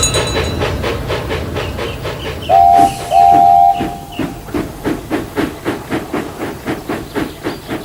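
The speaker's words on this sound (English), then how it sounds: "Thomas puffed crossly away with his passenger train" A steam engine chuffs rhythmically, two short whistle blasts sound early, then the puffing grows distinct and regular as it pulls away.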